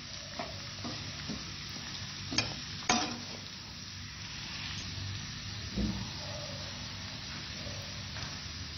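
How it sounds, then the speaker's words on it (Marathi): Finely chopped onion and garlic sautéing in a pan for creamy garlic palak, with a steady soft sizzle and a few sharp spatula knocks and scrapes, close by and without any talk. "छान हे सगळं परतून घ्यायचं व्यवस्थित."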